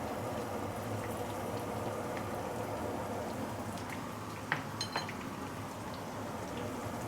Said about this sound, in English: Once the oil is heated up, we can put in all the fresh herbs.